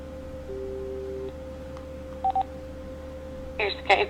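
Several DTMF tones sound as a telephone number is dialed, short electronic beeps in a brief sequence with a steady line hum underneath; a voice speaks faintly in the background.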